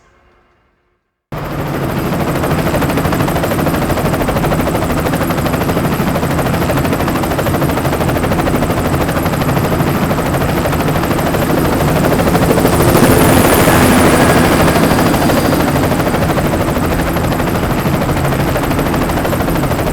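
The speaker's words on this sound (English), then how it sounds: "Overlord Kagan, potential threat approaching from the south. Airborne gunships, my lord" After a short near-silence, helicopter gunships roar in loudly and hold a dense, continuous rotor drone in the BloodRayne 2 video game, swelling slightly toward the end with faint rattling fire underneath.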